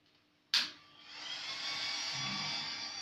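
An Antminer S7 Bitcoin mining machine starts up with a sharp click and burst of noise, then its cooling fans spin up into a loud, steady whirring drone that holds constant, heard close and alone.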